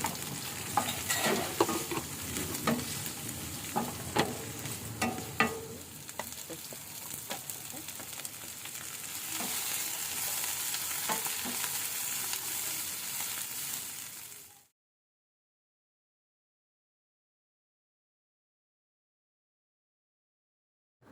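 Onion, ginger, garlic and coriander leaves fry and get stirred in oil in a pan, a steady sizzle with scraping and stirring clicks for about fifteen seconds, then cutting to silence.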